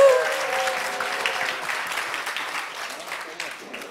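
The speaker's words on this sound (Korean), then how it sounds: "큰 박수 한번 부탁드립니다." Audience applause after a middle and high school quiz contest at a talk concert, a full burst of clapping that starts strong and slowly tapers off.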